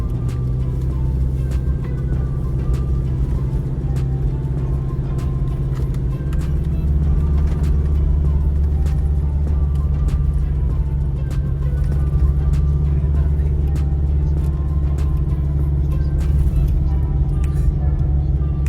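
Heavy, steady road traffic on the highway to Bicol near Lucena City, with a constant loud low engine rumble from many cars and buses in a slow jam and occasional higher whines, while voices talk underneath throughout.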